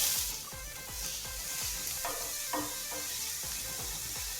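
Chopped onion sizzling in hot sunflower oil with mustard seeds in a pan, a steady bright crackle with a few sharp pops and light stirring scrapes throughout.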